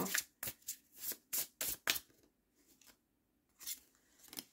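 Tarot cards shuffled by hand in a series of quick riffling bursts, close and fairly quiet, followed by a brief pause and then another short shuffle.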